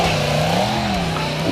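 A big bang powered 1998 Yamaha R1 motorcycle engine revving hard on a run, a loud, close, continuous howl with the pitch sweeping up and down over a second and a half.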